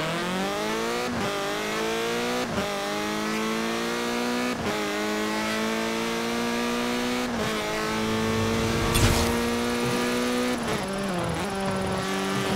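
Car engine from Forza Horizon 4 revs steadily and loudly through a series of gear changes, with sharp shift breaks every second or two and a brief scrape or tire noise late on, with no talk.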